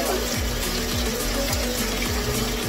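Water splashes steadily as it is poured onto freshly planted vegetables in a summer garden in Canada, a continuous close, even rush without pause.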